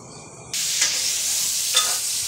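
Tomato frying in a pan gives a dense steady sizzle that starts abruptly after a quiet moment, with two brief stirring scrapes and no talk.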